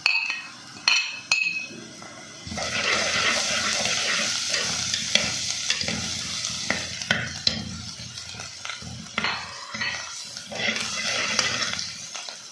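Minced garlic stirred into boneless chicken browning in a hot pan for black pepper chicken, with a steady frying sizzle, scraping stirs and occasional metal clinks of a utensil against the pan, close and without talk.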